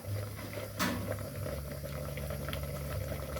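Rice porridge with shrimp and pork bubbling in a pot, a soft continuous boil with low gurgling and one brief sharper clink near the start, fairly quiet and without speech.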